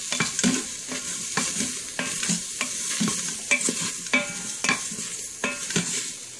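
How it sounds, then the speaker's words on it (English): A utensil scrapes and stirs spice-coated ingredients in a hot Instant Pot for chipotle pumpkin soup, steady rhythmic strokes over a soft sizzle, close and fairly quiet. "we're going to just stir those around just to make sure that everything gets covered in spices there."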